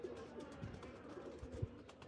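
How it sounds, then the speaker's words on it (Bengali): A Pankhi-breed pigeon gives soft, low coos, faint and close, two brief murmuring calls against quiet background noise. "এটা হয়তো বা পাঙ্খি জাতের কবুতর"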